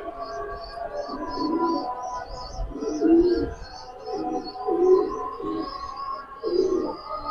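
A racer pigeon coos in slow, deep pulses about every second and a half, close and clear, while chirping from other birds runs continuously in the background.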